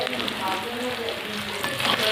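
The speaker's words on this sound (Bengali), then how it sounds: "কলাটাকেও আমি ভালো করে ভেজে নেব।" Plantain pieces fry in a pan of hot oil, giving a steady, close sizzle with crackling throughout, and no voice over it.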